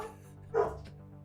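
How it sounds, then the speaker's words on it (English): A single short dog bark at moderate distance rises briefly over a steady low indoor hum, then fades. "That is a dog barking."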